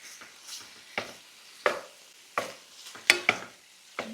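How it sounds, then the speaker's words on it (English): Beef, broccoli and scrambled eggs stir-fried for Thai pad see ew, with a soft sizzle beneath a series of sharp spatula scrapes and clacks against the pan, roughly one every half second to second. "Mix everything up."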